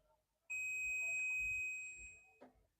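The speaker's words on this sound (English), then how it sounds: "So you can hear there is a beeping sound" An electrical tester emits a steady high-pitched beep for about a second and a half during an earth continuity test on a consumer unit, clear and close against a quiet background, then cuts off with a small click.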